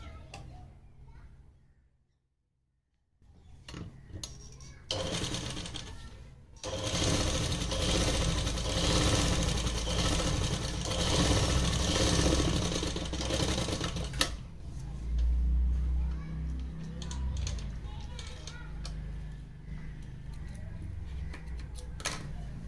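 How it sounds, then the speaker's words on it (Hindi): A home sewing machine runs a long continuous seam down a ladies' trouser leg, a steady mechanical whir close by that stops briefly near the start, with a voice faintly in the background. "अब इस पे ऐसे ही हमें सिलाई लगा लेनी है ऊपर से शुरू करते हुए।"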